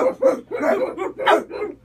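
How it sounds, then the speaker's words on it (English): A dog barks several times in quick succession, close and loud, with short yapping bursts. "Dogs!"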